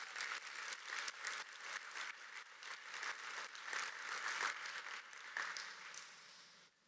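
An audience breaks into sustained applause for four innovation stories, a dense wash of clapping held at a steady level before fading at the end, with no talking over it.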